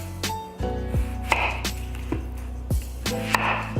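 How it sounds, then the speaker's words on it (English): A kitchen knife cutting through an onion on a board, several sharp separate chops at an uneven pace over a low background hum, close and clear with nobody speaking. "So I'm gonna show you how to chop this onion."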